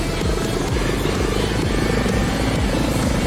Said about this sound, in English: two Klimoff TB3-117 turboshaft engines. He is demanding both of them at full power